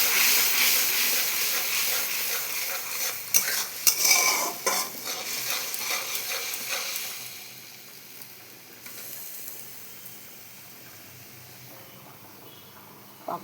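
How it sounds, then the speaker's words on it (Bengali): Spice masala with salt and turmeric stirred and sautéed in a pan for a pabda fish dish, a steady close sizzle with scraping spoon strokes that fades to a quieter simmer. "এখানে আমি নুনও দিয়ে দিলাম, হলুদও দিয়ে দিলাম। এটাকে ভালো করে মশলাটাকে কষাবো।"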